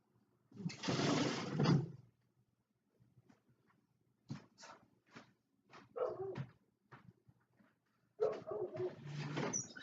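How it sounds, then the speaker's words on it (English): A dog in a backyard barks in a few loud, harsh bursts separated by quiet gaps, with faint clicks and rustles in between. "He's just barking really loud."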